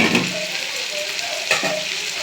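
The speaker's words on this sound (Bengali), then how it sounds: "মাছগুলো হোক ভাজা একে একে" Fish pieces fry in a pan with a close, steady sizzle and crackle and a brief clatter of a spatula, with no speech over the sound.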